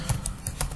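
Close, fairly loud typing on a computer keyboard while entering HTML header code, a quick run of four or five crisp keystrokes in an uneven rhythm.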